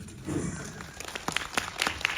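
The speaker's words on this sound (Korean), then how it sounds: "박수 한번" Scattered clapping building into brief applause from a small cinema audience at a film screening, fairly close, without speech.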